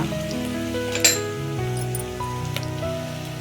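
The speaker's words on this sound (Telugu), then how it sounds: "ఇలా వేడెక్కాక వేగాక ఇప్పుడు ఉల్లిపాయలను వేసుకుందాం." Onions sizzling in hot oil in a pan while vegetable sambar is cooked, a steady crackling fry with a few metallic clinks of a utensil against the pan.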